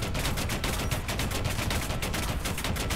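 Tank gunfire in War Thunder, a rank 2 tank in a test against 500 L3s, rattles in a dense, continuous stream of rapid shots that stays loud and steady throughout.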